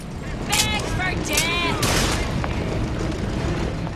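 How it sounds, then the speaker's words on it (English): Gunfire in BioShock Infinite: Burial at Sea, with booming shots and echoing blasts behind a busy game soundscape, close and fairly loud, with bursts of whistling in-game effects near the start. "He's shooting at me."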